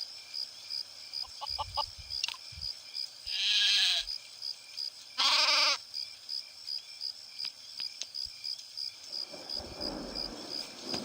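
Sheep caught in a trap in the video game Craft The World bleat in two short, loud bursts over a quiet game backdrop of faint chirping ambience.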